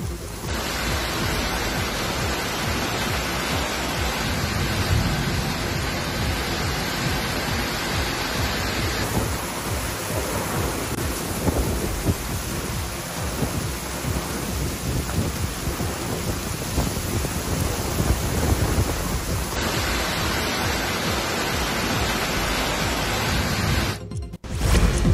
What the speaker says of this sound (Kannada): ಧಾರಾಕಾರ ಮಳೆಗೆ ಪ್ರವಾಹ ಸೃಷ್ಟಿಯಾಗಿದ್ದು ನಗರದ ರಸ್ತೆಗಳು ನದಿಯಂತೆ ತುಂಬಿ ಹರಿತಿವೆ